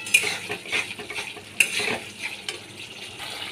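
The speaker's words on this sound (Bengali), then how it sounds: "মশলাগুলোকে ভালো করে কষিয়ে দিতে হবে।" Dried red chilli, green chilli and mustard seeds frying in oil for a fish curry, with steady sizzling and repeated stirring scrapes of a utensil against the pan, close and fairly quiet, with sharp clinks near the start and middle.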